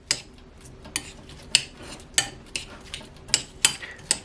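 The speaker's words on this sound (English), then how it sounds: "I'm using the fruit spread, which I am going to mix into the apple" A spoon clinks repeatedly against a bowl while fruit spread is stirred into chopped apple, about a dozen sharp, close metallic taps in an uneven rhythm over quiet background.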